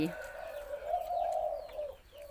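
A spotted dove coos in a low, steady hooting phrase nearby, with faint birdsong in the background.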